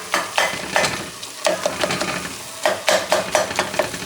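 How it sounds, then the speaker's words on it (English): Three pounds of ground beef browning in a pot while being chopped and crumbled, giving a steady sizzle broken by repeated scraping and tapping strokes of a utensil against the pot, close and fairly loud. "We have 3 pounds of ground beef inside of this pot"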